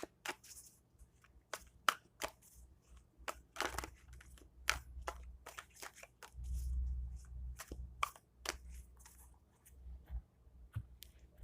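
A tarot deck is shuffled close up during a reading, giving quiet, crisp card slaps and soft riffling taps in an irregular rhythm, with no voices.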